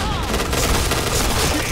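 Rapid, dense gunfire from a pair of guns in the shooter game Point Blank, a loud continuous barrage of overlapping shots filling the whole moment with no pause.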